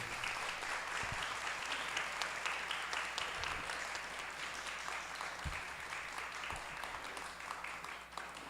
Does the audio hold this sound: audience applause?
yes